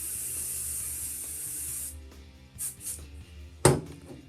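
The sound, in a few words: hairspray being sprayed on hair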